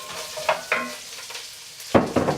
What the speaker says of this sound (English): That is sizzling in there.